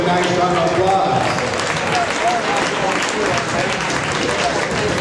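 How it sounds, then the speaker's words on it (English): Loud sustained crowd applause in a gymnasium after a cake auction at a boys varsity basketball game, dense clapping and cheering holding steady throughout with some voices mixed in. "All right, let's give a nice round of applause"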